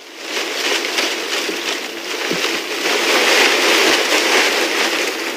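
Steady rustling of hand-shaken plant leaves imitating rain, a dense hiss that swells slightly and sounds like falling rain.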